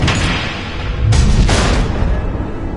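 Missiles explode in Batman: The Enemy Within, deep booming blasts, two heavy hits close together followed by a rumbling tail.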